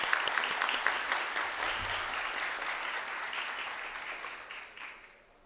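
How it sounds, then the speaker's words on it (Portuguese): Sustained applause from a crowd at a formal legislative session, steady clapping that fades slightly toward the end. "pedir uma salva de palmas para os professores"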